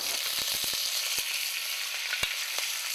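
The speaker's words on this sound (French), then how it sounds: "On va démarrer rapidement euh, un rissolage très très léger de la saucisse avec euh, un peu de matière grasse." Sausage lightly browning in a little fat in a pan, a dense steady close sizzle with scattered sharp pops and spits.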